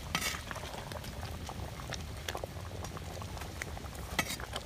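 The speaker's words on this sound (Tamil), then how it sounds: "மீன் குழம்பு கொதிச்சிருக்கான்னு பார்ப்போம். நல்லா கொதிக்குது" A pot of fish curry with onion and garlic boiling, a steady close bubbling and popping with faint stirring clicks.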